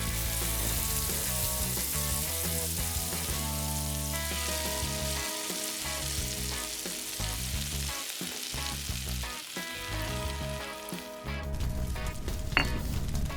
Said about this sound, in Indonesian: Goreng kepiting.